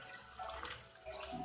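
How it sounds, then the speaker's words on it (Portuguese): Malt grain is rinsed with 76 °C water during home beer brewing: a steady, close rush of pouring and splashing water that swells louder partway through and continues without pause, with no voices. "agora eu estou fazendo a lavagem do grão, água 76 graus, para extrair mais açúcar ainda"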